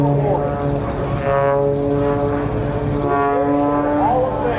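A Zivko Edge 540 aerobatic airplane maneuvers at the Minden-Tahoe Air Show in Nevada, its propeller engine droning loudly and steadily with shifting pitch as it rotates, heard from a distance outdoors.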